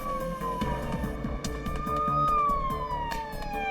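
An emergency vehicle siren wails in long rising and falling tones, fairly loud and steady with traffic rumble beneath, no voices.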